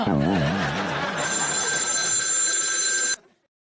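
A telephone bell rings with a steady, bright electronic tone over warbling background music, then cuts off abruptly near the end.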